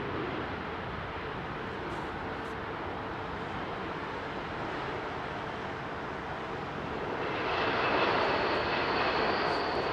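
An Airbus A380 jet airliner at Heathrow at takeoff power gives a steady, broad roar that swells louder and brighter toward the end, heard at a distance with no talking.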